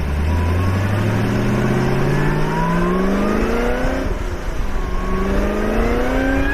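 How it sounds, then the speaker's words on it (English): A C5 Corvette with a self-installed, self-tuned LSA supercharger revs loudly up through the range, rising and falling with a clear supercharger whine over a deep exhaust note, near and without talk. "he's got an LSA supercharger on his C5 that he installed and tuned himself"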